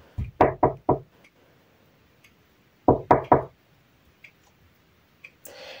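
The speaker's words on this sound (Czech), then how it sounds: "Teď naštěstí jako musím zaklepat." Knuckles rap on wood in two quick bursts of three to four close, sharp knocks, separated by a pause, with a faint click near the end.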